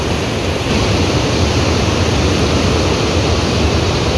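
Water thunders through the one open lock gate of the Teesta Barrage, a loud, steady, broadband roar like a waterfall, unbroken and close, with no voices.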